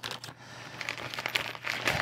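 Plastic bags holding assorted medications crinkle and rustle up close as they are handled inside the medication pocket of a MyMedic MyFAK Large first aid kit, a steady scratchy crackle with brief louder bursts and no talking.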